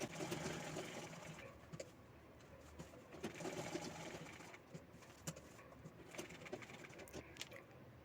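A sewing machine runs steadily while stitching a handbag made from a saree pallu with a zip and lining, its continuous mechanical whir close by alongside faint cooing of pigeons in the background.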